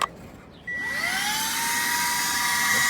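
A Moosoo cordless vacuum cleaner switches on inside a car on its low setting, a sharp start after a brief click, then a steady close high whine whose pitch rises as the motor spins up.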